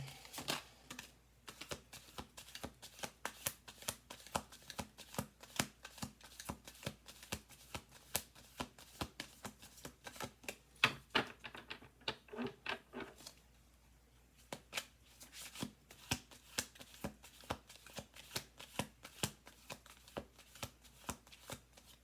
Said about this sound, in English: We're going to do 2 more shuffle throughs.